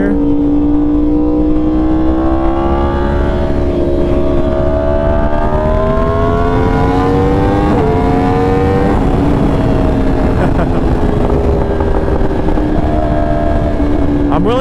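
A Yamaha R1M motorcycle engine with a flashed ECU sings while riding, its loud whine climbing steadily as the bike pulls through gears, with a brief dip at a shift and strong wind rush underneath throughout.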